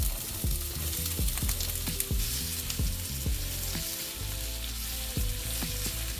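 Chopped onion fries in ghee or butter in a pan, a steady close sizzle with irregular scraping and stirring clatter from a utensil, no voices.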